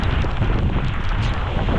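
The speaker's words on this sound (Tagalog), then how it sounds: "lakas ang hangin" Strong, steady typhoon wind roars and buffets the microphone on a street, a dense low rumble with no pauses.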